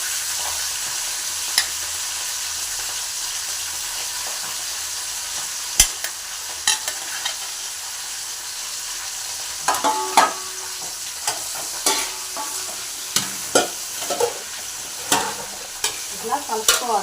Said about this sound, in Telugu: ఎర్రగడ్డ, పచ్చిమిరపకాయ వేగింది కదా. ఇప్పుడు మనము ఆకు వేసుకున్నాం.